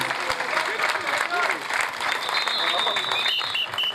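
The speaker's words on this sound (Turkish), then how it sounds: "Bu yapılan alkışları az buldum şöyle" An audience applauds at a Turkish oil-wrestling event at Kabülbaba, a dense, continuous clapping that fills the whole stretch while a voice talks over it.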